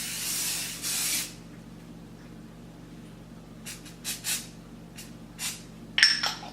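Two short hissing bursts of spray-on makeup foundation from an aerosol at the start, followed by quiet and a few soft taps and clinks.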